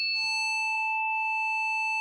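Steady sine-wave tone from a Synthstrom Deluge synth with ring modulation, a clean sustained pitch with bright overtones held for about two seconds, with small blips partway through and no voices.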